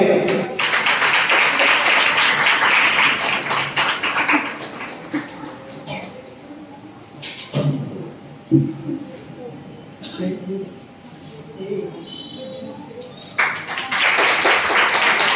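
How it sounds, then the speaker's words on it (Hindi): An audience at a hamd recitation competition held by a cultural committee in Malegaon applauds to welcome a guest, a crowd clapping in a burst at the start and again at the end, with someone talking over a PA in between. "तालियों से इस्तकबाल करेंगे।"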